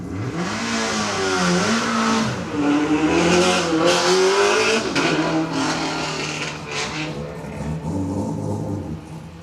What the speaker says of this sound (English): 2015 WRX STI just taken off up the first straight